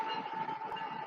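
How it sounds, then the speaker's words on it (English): A train rolls past close by, a steady sustained rumble with a strong ongoing tone and no pauses through the short stretch. "Train!"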